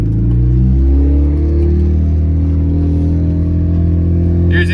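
A turbocharged Honda Civic manual with a 2.5 inch exhaust drives off, its loud low engine drone climbing steadily in pitch as it accelerates, heard close and continuous.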